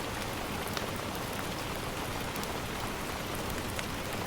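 Heavy rain pours steadily through a storm, a dense, even hiss of drops close by with scattered louder drips, continuous and without talk.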